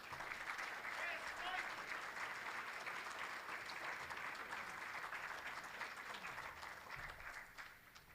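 Sustained applause from an audience at an awards dinner for a student honored for academic and athletic achievements, steady and dense for several seconds before tapering off at the end.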